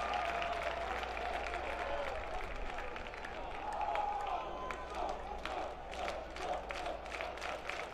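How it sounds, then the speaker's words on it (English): Clapping and crowd noise from players in the Brother Rice dugout and fans behind it at a high school baseball semifinal, a steady murmur of claps and voices with sharp scattered hits, heard from a distance. "Hands over their head, clapping in the Brother Rice dugout and behind the dugout"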